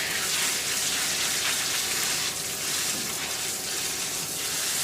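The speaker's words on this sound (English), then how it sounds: "Next thing we're going to do is give them a good rinse." Pumpkin seeds rinsed under a running tap, a steady, close, continuous rush of water with broadband splashing that holds even throughout, no voices over it.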